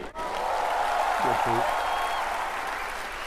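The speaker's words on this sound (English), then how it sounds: "clap your hands if you agree" Audience applause at an Indian comedy stand-up show, a steady broad wash of clapping lasting the whole stretch, loud and close, with a brief voice under it.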